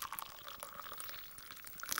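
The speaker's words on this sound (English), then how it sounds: "Take my hot infusion stroke decoction and pour out half a cup." A hot herbal tea decoction is poured into a cup, giving a steady, close trickle of liquid with a faint splashy edge throughout.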